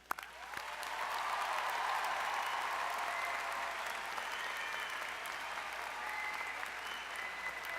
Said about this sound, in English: Will everyone please join me in another round of applause for all the new doctors.